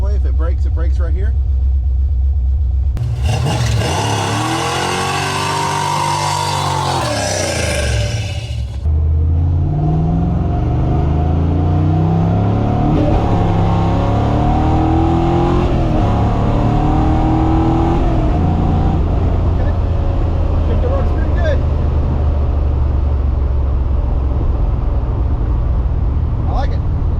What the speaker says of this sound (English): Should we do a burnout right here in the driveway?